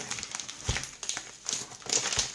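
The packaging of a Redmi Note 7 phone is handled and opened up close, giving soft crinkling and rustling with a few light taps and scrapes.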